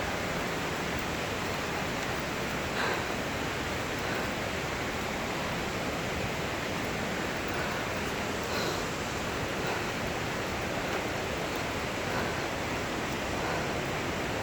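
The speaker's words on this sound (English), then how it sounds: "I'm gonna take pictures of and record the waterfall." La Fortuna waterfall roaring in a steady, dense rush at close range, unbroken and loud for the whole stretch with no voices.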